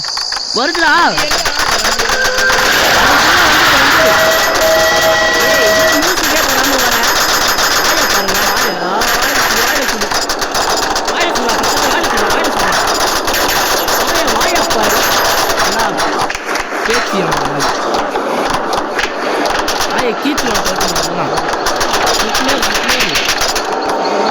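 In a Spider Train video game, the spider train approaches with a loud, continuous mechanical rattling and rumbling that shifts slightly as it nears, while players talk excitedly over it.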